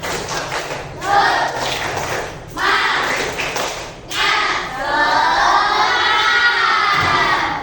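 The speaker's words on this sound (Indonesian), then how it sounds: "kita tepuk dulu biar menyemangati kalian belajar" A class of children chants and claps in rhythm, loud and close, with bursts of voices between quick clapping runs.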